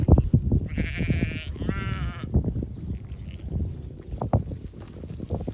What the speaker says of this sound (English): So as you can see, I've now got my sheep surrounding me.